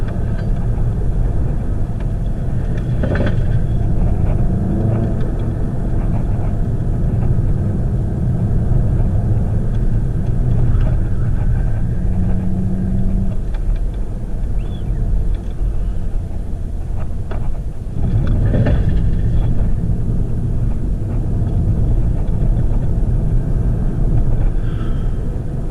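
Volkswagen Golf GTI engine heard from inside while driving after a downshift, a steady loud low rumble that holds throughout with slight swells and no talk.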